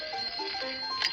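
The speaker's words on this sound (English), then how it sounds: "There's some laughing and a telephone ringing." A telephone rings with a quick trilling bell tone, one short burst standing alone at moderate volume.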